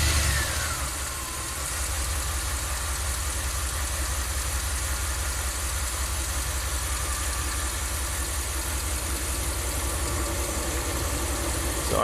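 A Ram camper van engine idles steadily during a minimum airflow RPM test, a continuous mid-pitched hum that dips briefly near the start and then holds even and loud throughout, with no voices.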